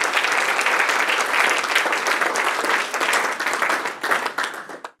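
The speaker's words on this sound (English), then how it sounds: "All right, one more round of applause for Andrew," An audience at a health-tech startup showcase gives a presenter a sustained round of applause: dense, close clapping that holds steady, then thins and cuts off at the end.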